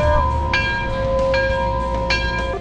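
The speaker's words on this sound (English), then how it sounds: "Somebody ring the bell!" A bell rings with clear sustained tonal strikes at a car dealership in Sanford, Florida, about three to four bright chimes ringing out over a steady background hum, loud and close.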